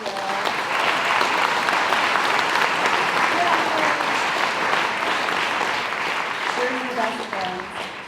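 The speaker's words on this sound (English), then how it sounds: "joining me in a big round of applause for Kayla and Cheryl" An orientation audience breaks into a big round of applause for two people, sustained dense clapping that fades near the end as a voice starts speaking.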